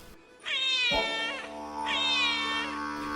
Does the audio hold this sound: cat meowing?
yes